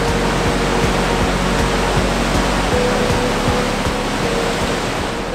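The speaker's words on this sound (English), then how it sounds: "I did not expect such an amazing waterfall on the first bridge." A waterfall on a river in Jasper National Park, Alberta, heard from a bridge as a loud, steady roar of rushing water that fills the whole scene, with faint thumps of footsteps underneath.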